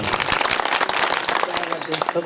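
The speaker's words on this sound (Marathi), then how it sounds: "डबल एक बार टाळी वाजवा." An audience at a devotional kirtan claps together in quick, sharp bursts, the hand claps sounding close and lively beneath a speaking voice.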